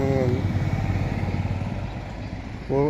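A motorcycle from Hyderabad runs close by, its engine holding a steady, loud mid-pitched drone for the whole stretch while people talk over it.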